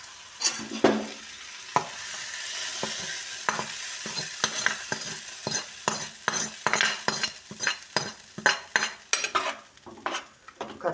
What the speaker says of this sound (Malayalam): കറിയൊക്കെ നല്ലപോലെ തിളച്ച് വന്നിട്ടുണ്ട്